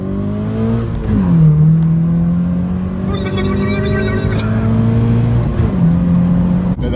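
A 2JZ-swapped FRS drives fast on back roads, heard as a loud, close engine drone that shifts pitch through gear changes and revs, with brief road and wind noise.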